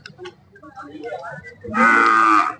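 One of a pair of Jawari oxen at the Kalghatgi cattle market gives a loud, close, drawn-out low that follows a stretch of faint market murmur.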